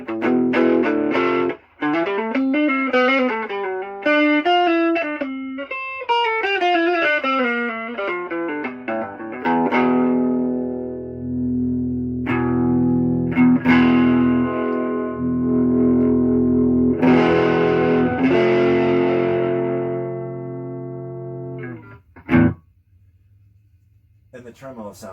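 Electric guitar played through a Gibson GA-15 RVT Explorer tube amp with tremolo, a melodic run of notes giving way to sustained, pulsing chords, loud and close with a touch of distortion, ending in a final struck chord.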